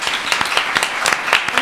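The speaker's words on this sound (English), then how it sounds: "Let's give her a big round of applause." An audience applauds a speaker with a brisk, loud burst of many hands clapping in quick, uneven succession, close and continuous throughout with no speech over it.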